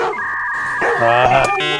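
A dog yelps and whines in the background of a comedy meme clip, short rising and falling high-pitched cries close to the microphone, with a voice-like layer running underneath.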